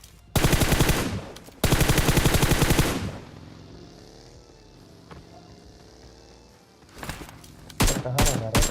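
Two long bursts of rapid automatic fire ring out close by in PUBG Mobile, then a quieter lull, before more short bursts start again.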